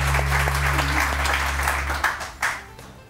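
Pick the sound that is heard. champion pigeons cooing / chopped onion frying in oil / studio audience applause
studio audience applause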